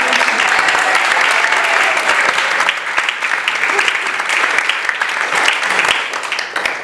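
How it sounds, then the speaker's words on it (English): A room at a Republican women's candidates night gives a warm round of applause to welcome a congressional candidate, loud, dense clapping from many hands sustained for about seven seconds with a faint murmur of the crowd. "if you please put your hand together for a warm applause"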